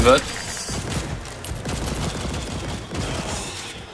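Small-weapon gunfire in the co-op shooter Second Extinction, a steady stream of rapid shots running under game effects and a voice, fairly loud and continuous throughout.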